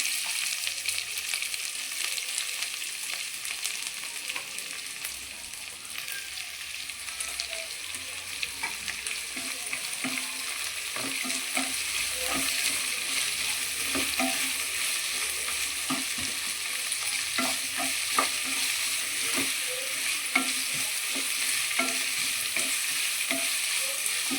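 Chopped onion and curry leaves frying in hot oil in a pan for Mangalore chicken pulimunchi, a steady bright sizzle with repeated scraping stirs throughout, close and with no talking.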